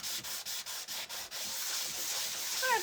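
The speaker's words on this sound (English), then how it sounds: "I'm going to take a little bit of sandpaper and I'm going to scuff it up" Sandpaper scuffs a Dollar Tree ornament being prepped for paint for a gingerbread chef face, giving a run of about six short rhythmic rasping strokes and then a steadier, continuous rubbing, close and fairly quiet.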